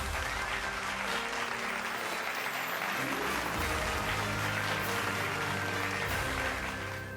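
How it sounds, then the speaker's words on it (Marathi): A large audience at a Marathi awards ceremony claps in a dense, sustained wash of applause that stays loud and even throughout. "जोरदार टाळ्या वाजून त्यांचं स्वागत करायचे"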